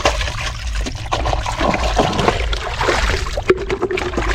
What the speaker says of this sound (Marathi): खारे पाण्याने एकदम फ्रेश धुवून घेतो चांगल्या पाण्यात एकदम